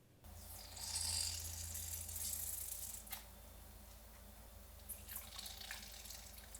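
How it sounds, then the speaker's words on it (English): Rehydrated shiitake mushrooms are squeezed by hand so their soaking liquid splashes and dribbles back into a bowl, a close run of trickling and dripping water that eases off into scattered drips. "we're going to squeeze some of the excess moisture out back into the bowl"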